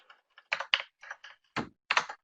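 Computer keyboard typing with bursts of quick key presses in short irregular clusters, close and clear, with no talking.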